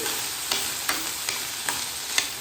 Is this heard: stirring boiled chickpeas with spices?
yes